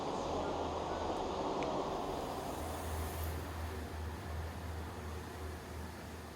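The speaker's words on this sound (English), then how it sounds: "here's my train pulled in on platform 2" A Class 165 train sits at a platform in the West Midlands, its engine humming low and steady beneath broad hissing noise, close by with no talking.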